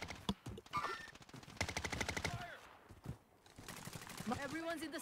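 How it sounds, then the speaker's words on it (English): Rapid bursts of automatic gunfire crack out in the Warzone battle royale game, with repeated volleys and overlapping shots heard close, while players talk over the firing. "They're shooting at my right shield."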